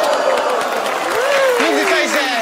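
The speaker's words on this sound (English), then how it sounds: "Big applause, big applause!" An audience applauds a card trick: steady, close crowd clapping runs throughout while someone speaks loudly over it.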